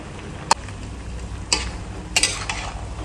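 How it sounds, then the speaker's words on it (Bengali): Vegetables stirred with chili powder in a pan, a few sharp spoon clacks against the pan spaced irregularly over a quiet, low background. "এবারে ভালো করে সমস্ত সবজির সাথে লঙ্কার গুঁড়ো ঝালটা মিশিয়ে নেব।"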